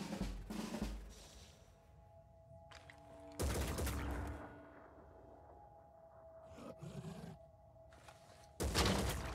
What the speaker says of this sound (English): Shooting the guy that I want to protect through the window is just wrong